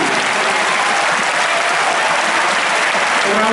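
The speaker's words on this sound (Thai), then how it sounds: "กองเชียร์แต่ละฝ่ายจะปรบมือให้ฝ่ายอย่างถูกต้องครับ" Dense, loud applause from rival cheering sections at a Thai inter-school sports event, Suankularb versus Debsirin at the Jaturamitr Samakkee games, a continuous roar of clapping from a large crowd.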